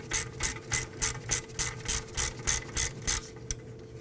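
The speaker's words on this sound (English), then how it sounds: "Let's now go ahead and loosen and remove this upper bolt completely." A ratchet clicks in a steady rhythm, about a dozen quick strokes close up, loosening an upper brake caliper bolt on a 2003-2014 Volvo XC90, then stops.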